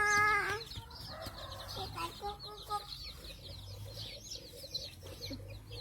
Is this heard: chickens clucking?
yes